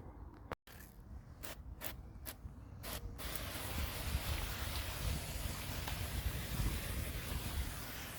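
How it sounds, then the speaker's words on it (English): Cleaner sprayed onto car wheels and tyres during a valet, a steady close hissing spray after a few short sharp bursts at the start, continuing alone without talk. "put some cleaner on the wheels, tyres, and then give it a rinse down"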